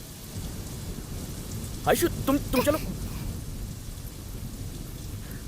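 Steady rain falls in a thunderstorm outdoors, a constant hiss of drops on surfaces underneath a woman's brief spoken line in the middle.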